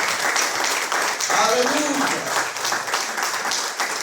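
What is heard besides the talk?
congregation applauding in church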